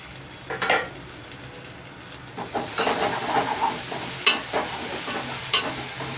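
A spoon scrapes and stirs tomatoes, green chillies, ginger and garlic frying in a pan, with a few distinct scraping strokes over a soft continuous sizzle and no talking.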